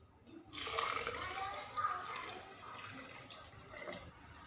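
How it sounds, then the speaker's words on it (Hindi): Water pours steadily into a mint and coriander drink mixture with sugar and black salt, a continuous splashing stream for several seconds that tapers off, fairly quiet with no voices. "अब हम इसमें शामिल करेंगे पानी।"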